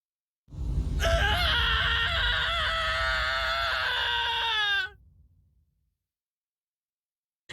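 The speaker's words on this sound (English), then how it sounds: "Not a very good scream." A drawn-out, strained scream from a character in a video game cutscene, loud and steady for about four seconds before it cuts off into silence.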